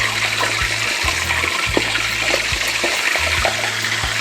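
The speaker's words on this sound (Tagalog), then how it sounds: "Pwede rin po nating wisik-wisikan ng tubig ang ating pata" Steady sizzling hiss of water sprinkled onto frying pork leg (crispy pata), with a low bubbling hum and scattered sharp crackles and pops, no voices.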